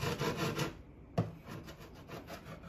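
A hand saw with a thick blade works through a clamped piece, giving a close, steady back-and-forth rasp of strokes with a brief pause before the cutting resumes.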